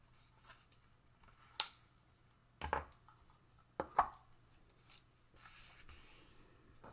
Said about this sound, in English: So let's fold this in half.